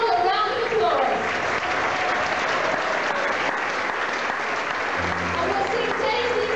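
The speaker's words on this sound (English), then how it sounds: "Let's give them all a round of applause." Sustained, dense audience applause fills an old-time music hall, steady and loud throughout, with a voice briefly speaking near the end.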